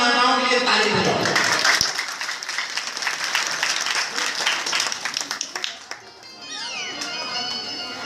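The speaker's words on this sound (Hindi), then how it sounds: "एक बार जोरदार माताओं के लिए ताली बजाओ।" A crowd at a Hindu katha gathering at Kailadevi Dham bursts into loud, dense applause for the mothers. The clapping is sustained, then thins into scattered claps as voices come through near the end.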